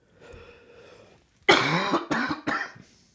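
A close, loud burst of harsh coughing, three rapid hacks in a row, following a few seconds of quiet low background hum.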